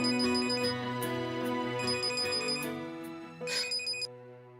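Telephone ringing indoors, a repeating electronic ringtone pattern of bright tonal bursts, moderately faint and heard alone, cutting off just before the end.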